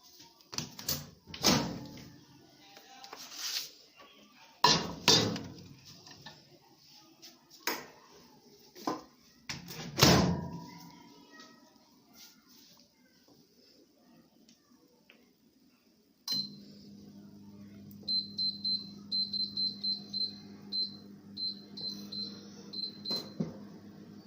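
Door clunks and clatter of handling, then a steady hum starts and a series of quick electronic beeps sounds as a microwave timer is set to melt cream for making ghee.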